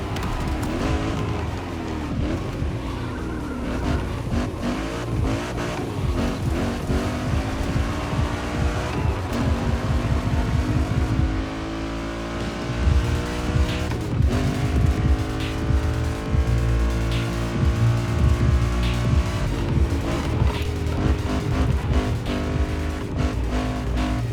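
Souped-up Japanese race cars driving in The Crew Motorfest, engines revving loud and close with rising and falling pitch through gear changes, continuous throughout.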